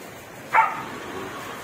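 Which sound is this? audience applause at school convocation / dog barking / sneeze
dog barking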